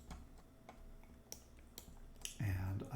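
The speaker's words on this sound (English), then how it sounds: "I can get the commands or nodes by hitting the tab key and then type merge" Light typing on a computer keyboard, a few sparse faint clicks spread out at a close distance, followed by a louder muffled thump near the end.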